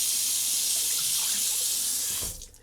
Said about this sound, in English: we're going to put the water in